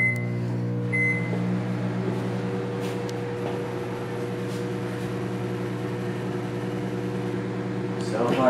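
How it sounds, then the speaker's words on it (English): A microwave oven heats eggs inside, giving a steady, droning electrical hum with a layered tonal buzz throughout. Faint beeps sound near the start, and a brief clatter comes at the very end. "We're gonna put them in the microwave for, I'm gonna say a minute."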